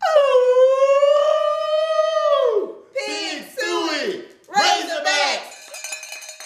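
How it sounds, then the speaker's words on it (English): Several dogs inside a house howl, one long rising-and-falling howl followed by shorter broken howls and yips, close and loud. "Got some dogs up in there."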